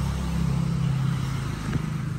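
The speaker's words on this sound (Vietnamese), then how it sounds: "em này thì máy nổ cũng rất là im luôn" A motorbike engine idles steadily with a low, even rumble and a faint rhythmic putter, fairly close and without talk.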